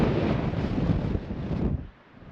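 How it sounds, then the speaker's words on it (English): Strong wind roars across a mountain top, buffeting the microphone in a loud, continuous rush that drops off abruptly near the end. "It's so windy."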